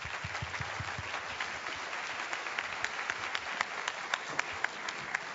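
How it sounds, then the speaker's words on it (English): Audience applause in a hall during an awards ceremony, a moderate crowd clapping steadily with individual sharp claps growing more distinct toward the end, heard at middling distance. "we'd like to give Lorraine a big round of applause as well"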